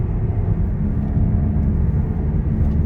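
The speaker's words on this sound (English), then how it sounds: "This thing's got a wasted bearing on the driver's front." Steady low rumble and road drone from inside a car on the freeway, a continuous droning hum from a worn driver's-side front wheel bearing, with no talk over it.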